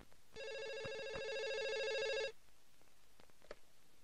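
A telephone rings indoors in a comedy film scene, giving one steady electronic ringing tone for about two seconds before it cuts off, followed by quiet room sound with faint small noises.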